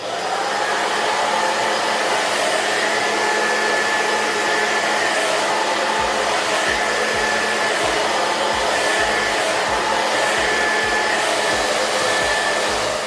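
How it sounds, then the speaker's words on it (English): A hair dryer blows steadily and loudly for the whole stretch, a constant broadband whoosh with a faint whine and no voices. "grab your blow dryer and just blow dry the cap down"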